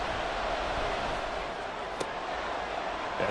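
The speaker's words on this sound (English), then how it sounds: "The Arrowhead crowd in full roar." Stadium crowd noise at Arrowhead in the Madden NFL 24 video game, a dense, constant roar holding at one level throughout, with a single sharp click partway through.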